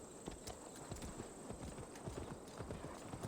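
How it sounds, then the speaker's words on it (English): Horse hooves clip-clop in a quick, rhythmic gallop in the video game Assassin's Creed Valhalla, a steady run of close, distinct hoofbeats with no voices. "You spawned a horse out of nowhere last time."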